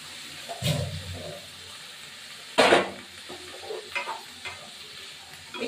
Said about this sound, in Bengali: এবার এটা একটু ভাজা হবে।